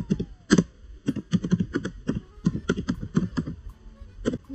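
Keystrokes on a computer keyboard while editing a DNS server configuration, a quick irregular run of crisp clicks close by, bunched into short bursts with brief pauses, no talking.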